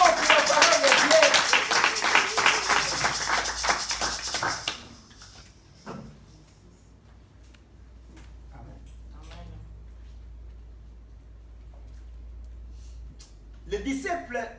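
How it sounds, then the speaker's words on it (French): Church congregation applauding the word of God during a Sunday service, a loud burst of clapping for about five seconds that stops abruptly, followed by quiet murmuring and a brief return of clapping at the end. "Acclamons pour la parole de Dieu"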